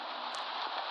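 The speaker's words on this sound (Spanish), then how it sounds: "La lluvia fresca de la tarde había caído sobre el valle" Rain sound effect for a radio drama set in a valley, falling on a thatched hut roof and maize fields, a steady dense hiss with a couple of brief crackles, no voices over it.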